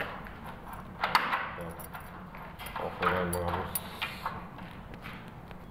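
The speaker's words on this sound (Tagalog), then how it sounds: "titesting na natin yung mga lock kung okay na ba siya" Door locks being tested on an interior door for latch function and alignment, with metallic clicks, rattles and a key-like jangle under a man's speech.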